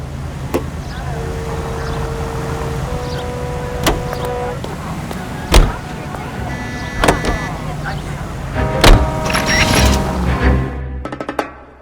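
A car engine in the LA Noire Remaster hums steadily as it drives, with door and mechanical clunks scattered throughout and a rising engine note near the end, beneath occasional voices.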